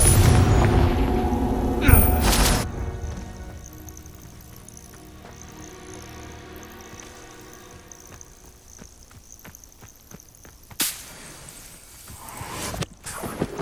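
A Confringo fire spell bursts in the Hogwarts Legacy video game with a loud, booming explosion at the start, then a quieter stretch of ambient game sound and footsteps, and a second burst near the end.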